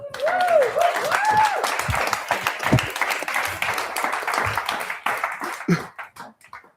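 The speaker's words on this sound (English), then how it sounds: "Another round of applause" Applause from an audience after a live music performance in Bristol, steady and fairly close, with a few voices cheering early on before the clapping thins and trails off.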